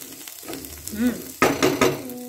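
Cooked chicken meat spattering in a hot pan for chicken fuchka filling: a steady sizzle erupts into louder sharp crackling pops partway through, with a few utensil clinks.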